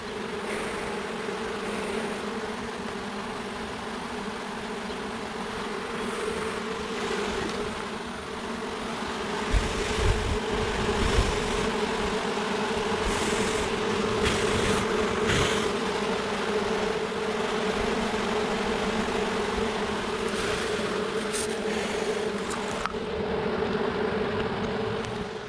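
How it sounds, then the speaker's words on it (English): Honey bees from an exposed hive removed from a tree hum steadily at close range, a continuous droning buzz with some faint handling noises throughout. "This is a exposed hive I removed from a tree up there about 10-15 feet up."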